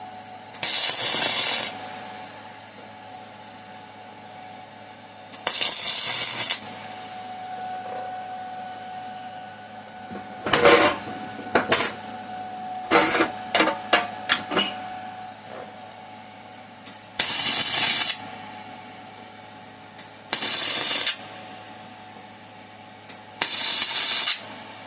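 An electric welder tack-welds along a metal seam during work on a 5hp Briggs and Stratton engine, sounding as a series of short, loud, sharp hissing crackles separated by quiet pauses, with a few quick buzzing zaps grouped together midway.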